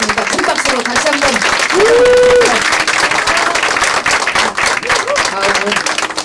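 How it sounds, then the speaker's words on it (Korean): A crowd at a party's second-anniversary ceremony claps loudly and continuously for the secretary-general, a dense wash of many hands that runs the whole time. A voice speaks over it, and a brief tone sounds near the middle. "큰 박수로 다시 한번"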